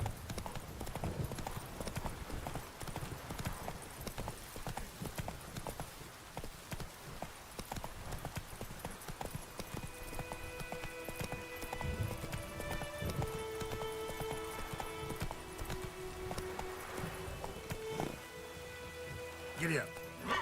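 Roach, a horse in The Witcher 3: Wild Hunt video game, trots with rapid, rhythmic clip-clopping hooves over a soft rain-like hiss. Sustained musical tones enter later and play under the hoofbeats.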